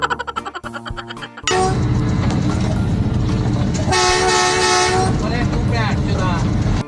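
A train rolls past close by, a loud steady rumble with rhythmic rattling, a horn-like tone sounding midway, after a brief noisy start.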